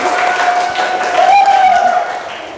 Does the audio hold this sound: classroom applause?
yes